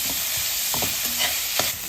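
Onion frying in a pan with salt, a steady loud sizzle under repeated scraping strokes of a spoon stirring, close up with no voices.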